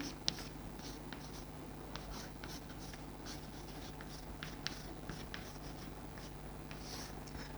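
Chalk or marker writing out an example on a classroom board, a faint run of short scratchy strokes at an even pace, no voices.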